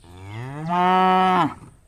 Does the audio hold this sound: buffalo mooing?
yes